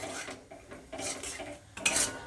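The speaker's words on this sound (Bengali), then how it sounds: "এইবারে এই মশলাগুলো টমেটোর সাথে 5 থেকে 10 মিনিটের মতো ভালোভাবে কষিয়ে নেব" Spices and tomatoes being sautéed in a pan for vegetarian kofta curry, with quiet, intermittent scraping and clinking of a utensil against the pan, close and faint.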